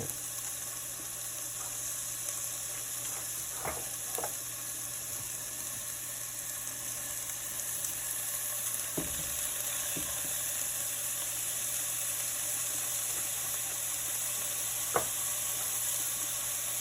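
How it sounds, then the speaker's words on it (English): Ground beef sizzling steadily in a pan for nachos, a constant close hiss of frying with a few faint clicks and knocks, no talk. "I'm just adding some ground beef to it"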